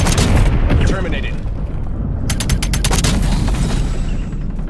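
An EMP grenade detonates in Call of Duty: Black Ops, a loud booming burst followed by sharp crackling electronic pops over constant gameplay noise, with a voice speaking in the background.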